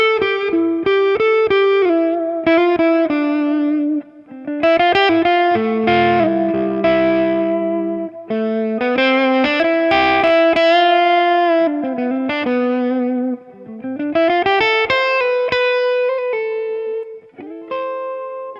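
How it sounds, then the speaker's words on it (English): An electric guitar plays a melodic lead on the neck pickup through a mini amp head with a Mako reverb. The clean, sustained notes and chords ring out with a reverb tail and short breaks between phrases. "For now, I've got a Mako reverb plugged in."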